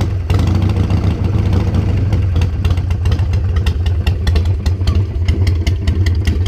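A carbureted Harley-Davidson Sportster with lollipop exhaust idles cold, its engine chugging in a loud, steady, uneven low-pitched rhythm with occasional sharp pops, close up and alone.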